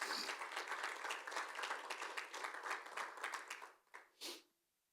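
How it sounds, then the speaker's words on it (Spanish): A church congregation at a Spanish-language service in Baltimore applauds, with steady, full clapping that thins and tapers to a couple of last claps before silence, fairly faint overall. "Denle un aplauso al Señor si puede."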